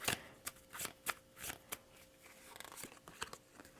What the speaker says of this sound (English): Give that a shuffle.